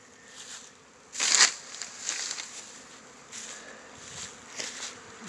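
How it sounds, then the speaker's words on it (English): Bees buzz around an apiary in Fairplay, Maryland in February, with scattered nearby passes that swell and fade against a quiet background. "There's bees everywhere today."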